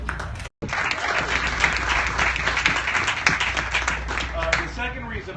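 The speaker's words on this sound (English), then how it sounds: "So give yourself a round of applause." Dense audience applause at a charity cooking event, loud and continuous after a brief dropout at the start, with a crowd murmuring underneath.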